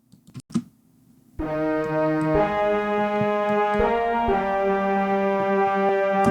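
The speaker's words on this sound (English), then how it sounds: "which is sort of like our brass or choir section, and it sounds like this." A Kontakt virtual brass and choir section sustains rich, layered chords that shift a few times, loud and close, after a couple of brief soft knocks at the start.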